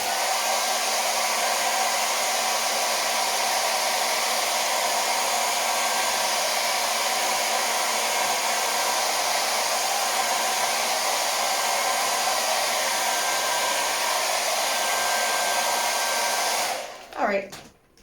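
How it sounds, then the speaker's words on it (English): A hair dryer blowing on a wet painting runs with a steady, loud whirring hiss for the full stretch, then switches off and winds down at the end. "Just a quick dry with the hair dryer."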